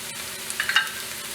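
Garam masala and amchur spice mix cooking in a pan for stuffed bell peppers, with a soft, steady sizzle and a few brief scraping stirs near the middle, quiet and close with no talking.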